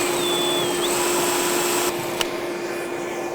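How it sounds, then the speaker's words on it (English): A shop vacuum drones loudly and steadily throughout while a 3/32 inch bit drills holes for a waterproof cable gland installation, the pitch shifting slightly partway through with a brief click. "We're just going to go around and drill all 4 of these."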